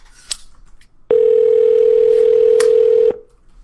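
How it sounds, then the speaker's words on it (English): A telephone dial tone while calling someone: one steady, loud continuous tone lasting about two seconds, then cutting off, with faint background noise before and after. "gotta dial them up again"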